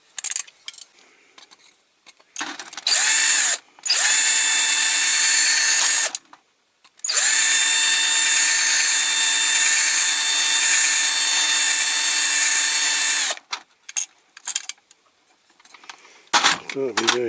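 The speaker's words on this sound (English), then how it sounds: "So I need to drill that piece out now." A power drill bores out a piece of a Dinky Toys Coles Hydra Truck 150T die-cast model during restoration. The motor whines steadily in two long bursts and a shorter one, with brief silences and small metallic handling clatter between them.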